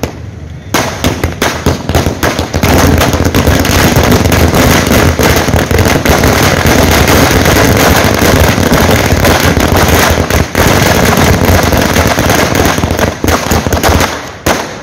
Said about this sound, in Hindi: कांग्रेस जनों ने यहां पर आतिशबाजी भी की।